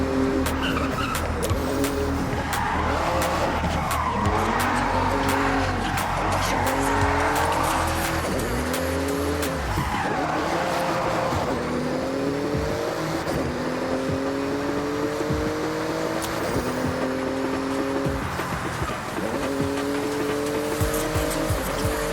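A Porsche in Forza Horizon 6 races hard, its engine revving up and down through gear changes while tires squeal and skid repeatedly, loud and close throughout.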